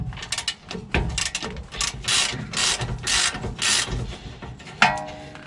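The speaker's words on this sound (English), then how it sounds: "Work this bolt and nut back and forth." A wrench ratchets back and forth on a lubricated rear shock bolt of a Toyota Tundra in quick metallic clicking bursts, close up, ending with a sharp clank.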